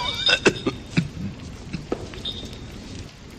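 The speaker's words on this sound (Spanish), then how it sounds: "El ataque de tos le impidió responderme al momento." Coughing fit performed in a Spanish-language radio drama of The Cask of Amontillado, a cluster of short, harsh coughs in quick irregular bursts, then trailing off into quieter breathy sounds.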